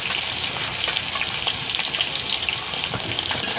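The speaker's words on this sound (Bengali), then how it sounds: "এখন এগুলোকে ব্রাউন কালার করে ভেজে নেব।" Chopped onions fry in hot oil with dried chilies and bay leaves in a pan for carrot pulao, giving a steady, close, dense sizzle with faint crackles and no talking.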